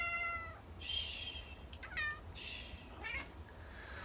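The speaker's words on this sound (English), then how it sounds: "sorry if you can hear my cat, he's hanging out and meowing." A pet cat meows close by indoors in several short calls, with a quiet hush from a person between them.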